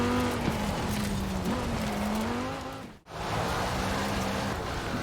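Racing video game car driving on dirt, a steady engine drone with gear-shift pitch steps and gritty gravel-like noise throughout, briefly dropping out around the middle before resuming.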